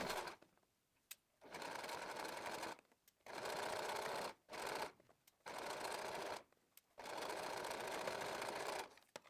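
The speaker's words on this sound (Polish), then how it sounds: "Następnie zszyjmy 2 kawałki materiału po łuku wklęsłym." Close sewing machine stitches two pieces of fabric along a concave curve, running in several steady, buzzing bursts of varying length with short silent pauses between them.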